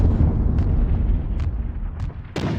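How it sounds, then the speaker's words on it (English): Artillery shells exploding in the wargame Squad Battles Eagles Strike, a continuous rumbling barrage of low booms with a sharper, louder blast near the end. "they also have off-map artillery that's already starting to cause some casualties"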